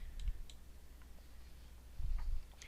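A few light, sparse clicks of a computer mouse, close and soft against a quiet background, with no one speaking.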